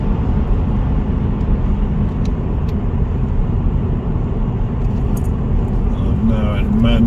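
A Mercedes E220 CDI drives in sport mode, its steady engine drone and road rumble loud and constant throughout.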